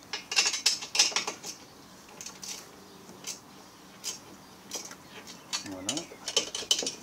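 Ratcheting clicks from fasteners being tightened while a car's air-conditioning condenser is refitted, come in short bursts close by, with brief quiet gaps and a single word spoken near the end.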